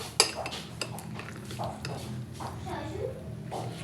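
Spoon clinking and scraping in a bowl while fruit chaat is mixed, a few sharp taps up front then softer stirring, with faint background voices.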